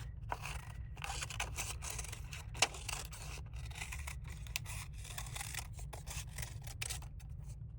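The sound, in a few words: scissors cutting construction paper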